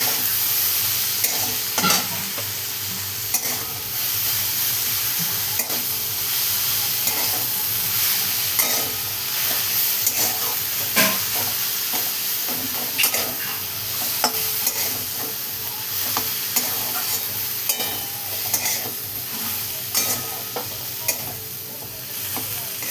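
Broad bean pods in green masala being stirred in a pan, with repeated close scraping and clattering strokes over a continuous soft sizzle, no voices.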